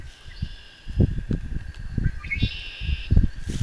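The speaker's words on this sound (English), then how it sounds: "Well, red-winged blackbird," A red-winged blackbird calls outdoors in spring woodland, thin high whistled and buzzy notes held in the background, while closer rustling and soft thumping footsteps or movement dominate the foreground.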